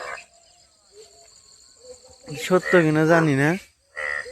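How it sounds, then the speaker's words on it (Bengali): Frogs croak in a pond on a foggy, cold morning, forming a steady, high-pitched chorus that runs unbroken from start to finish, with a voice briefly talking over it partway through. "আর এই পাশে ব্যাঙ ডাকতেছে পুকুরে"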